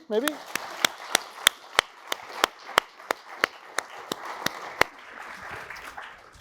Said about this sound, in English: Round of applause, maybe?